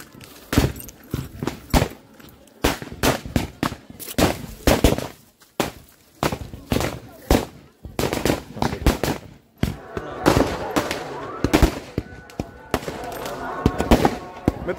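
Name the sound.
fireworks and firecrackers at a fort torch festival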